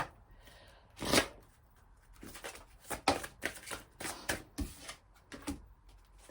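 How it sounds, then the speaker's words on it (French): Tarot cards are drawn and shuffled close up, a series of crisp riffling swishes and snaps in an uneven rhythm, with one louder flurry early on and no talk over them. "On va prendre une carte du pouvoir de l'amour."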